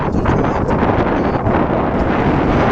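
Strong wind buffets the microphone in a steady, loud rumble outdoors by a pond, with no talking.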